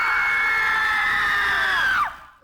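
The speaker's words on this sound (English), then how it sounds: "on 3, give us the scream" A North Carolina audience screams together on cue, a loud, sustained, high-pitched collective shriek that holds for about two seconds and then cuts off with a quick falling tail.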